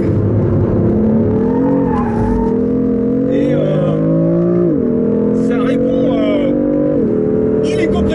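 A BMW six-cylinder twin-turbo engine revs loudly and close, its pitch climbing and dropping in repeated sweeps as gears change, under steady talk.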